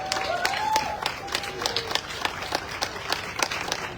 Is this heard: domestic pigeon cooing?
no